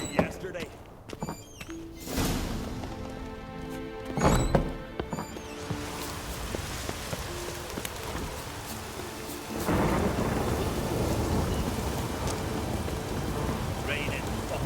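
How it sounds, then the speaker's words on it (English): Steady heavy rain pours throughout, broken by loud thunder cracks and rumbles early on, with voices speaking over the storm at times, in the video game The Witcher 3. "Raining fucking buckets."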